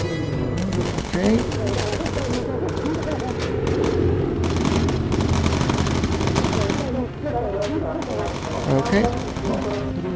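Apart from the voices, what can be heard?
bomber gun firing in the video game Bomber Crew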